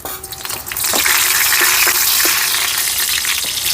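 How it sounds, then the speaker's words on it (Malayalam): Hot oil sizzles loudly and steadily, with scattered sharp pops and crackles of mustard seeds bursting in the pan. "കടുക് പൊട്ടിക്കൊണ്ടിരിക്കുന്നു."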